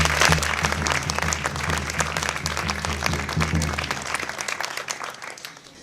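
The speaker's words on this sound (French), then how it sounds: "que l'on peut toutes les trois applaudir" Crowd applauding three girls named town ambassadors at a civic ceremony, a dense burst of clapping that stays steady, then thins and fades toward the end.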